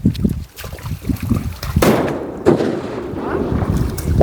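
A firecracker goes off on a riverbank in rural Konkan, a sharp close crack near the two-second mark followed by a second burst and a rolling echo that fades across the water, with outdoor ambience before and after.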